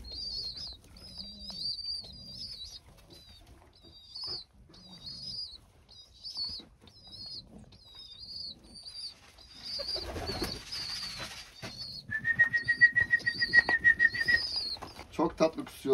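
Racing homing pigeons coo in soft repeated bursts inside a loft, with close wing flaps and a brief whistle. A person speaks quietly at times.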